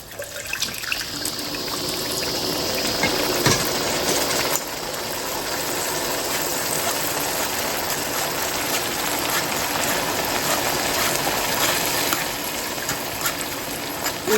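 Soaked tamarind water poured into a coconut sugar chili paste for Thai roasted chili paste with pork cracklings, a steady continuous gushing, splashing pour lasting several seconds with a constant hum underneath.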